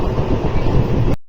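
The Mysuru to Belagavi Express, train number 17301, rolls along near the Krishnarajasagar backwaters, giving a loud, steady low rumble of wheels and carriage noise heard from on board, with no talk, until it cuts off abruptly.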